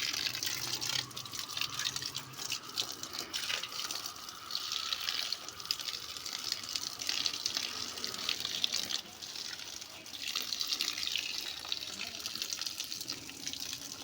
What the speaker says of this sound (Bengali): এখন বাগানে জল দিচ্ছি পাইপে করে।